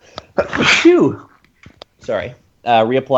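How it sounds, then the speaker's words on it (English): A single sharp, loud sneeze bursts out close by, followed after a pause by people talking at a tabletop role-playing game session. "I should sneeze before D&D, I know."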